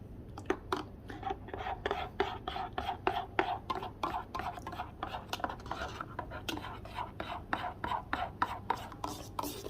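Steady, rapid scraping and clinking as coffee and milk froth are stirred together in a cup, a close and continuous rhythmic rubbing over a low background hum.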